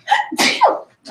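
One loud, close sneeze with a breathy intake and explosive release, heard during a math lecture in a classroom.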